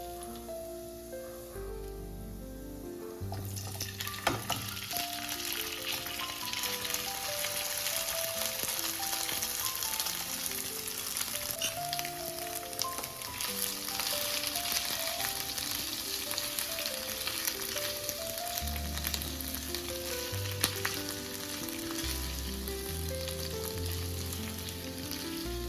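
Potatoes fry in a pan with a mixed vegetable filling for fasting dosa, giving a loud, steady, close sizzle with occasional stirring clatter and no talk.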